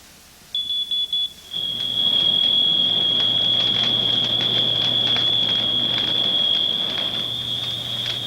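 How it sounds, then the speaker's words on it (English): A shrill, piercing smoke alarm: a few quick beeps, then one continuous high-pitched tone that keeps sounding loudly over a low hum and crackling background noise. "A smoke detector can alert you to a fire like this one"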